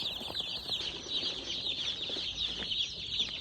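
A box of about 100 newly delivered chicks cheeps constantly, a dense chorus of high, shrill peeps with occasional soft rustling and scratching underneath, steady and close.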